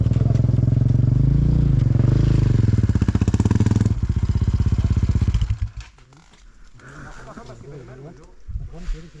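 Off-road motorcycle stuck in deep mud during a friendly enduro ride, the engine loudly revving and bogging for several seconds before cutting out, followed by people talking nearby.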